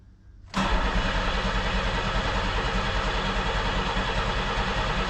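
A 1990 Pontiac 6000 SE AWD that has sat for over 20 years begins cranking after a quiet moment, then holds a loud, steady, rhythmic engine churn.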